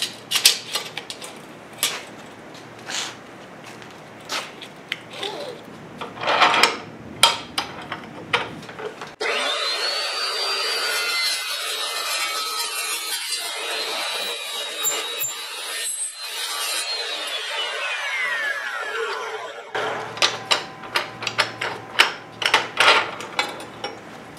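A power saw cuts wood pieces in a workshop. Sharp knocks and handling clatter come first, then about ten seconds of sustained whining cutting that winds down before more knocking and rattling.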